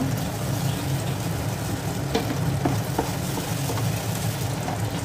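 Paneer gravy with salt and sugar sizzles steadily in a pan while a spoon stirs it, with scattered scraping clicks over the continuous frying hiss.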